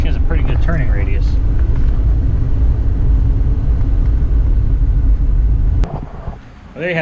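A 1991 Cadillac DeVille with freshly changed brakes drives along with a loud, steady low engine and road rumble inside the cabin, easing off near the end, while someone talks over it.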